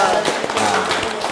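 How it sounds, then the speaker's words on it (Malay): A small group clapping in a room, a short close burst of dense irregular applause, loud and steady through the moment, with voices mingled in. "Tepukan untuk Atikah."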